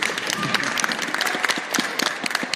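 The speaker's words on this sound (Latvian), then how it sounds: "Superīgi, aplausi, lūdzu." An audience applauds with quick, scattered claps, moderately loud and continuous, with voices murmuring underneath.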